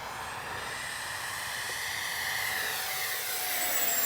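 An E-flite 64mm Viper RC jet with an electric ducted fan flies at full speed, giving a steady loud whine and rushing roar that swells slightly as it passes closer.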